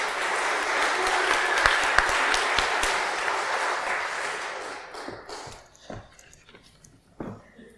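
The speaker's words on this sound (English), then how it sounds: "Give him a round of applause, ladies and gentlemen." A church congregation at an evening Palm Sunday service applauds, a dense, steady patter of many hands clapping that tapers off into a few scattered claps and quiet room noise.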